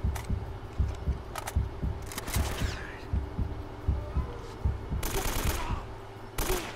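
Repeated gunshots ring out in Uncharted: Drake's Fortune, a steady series of low thumping reports with a few sharper cracks, fairly close and moderately loud, with occasional louder bursts near the end.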